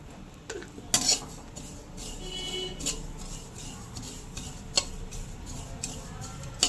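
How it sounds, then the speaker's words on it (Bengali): Poppy seeds are dry-roasted in a kadai for a vegetarian chhana kofta curry, with scattered metallic clinks and scrapes of a spatula against the pan, sharper taps now and then over a quiet background. "এবার আমি কড়াইতে কিছুটা পোস্ত দিয়ে একটু ভেজে নেব"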